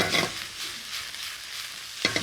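Broccoli, cauliflower and straw mushrooms hit a very hot wok with a loud burst of sizzle, then settle into a steady frying hiss, and a clattering stir breaks in at the end.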